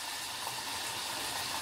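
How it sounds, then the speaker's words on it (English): Capers sizzle steadily in hot avocado oil in a pan, a continuous bright, dense hiss that stays close and loud with no talking. "And they are definitely sizzling."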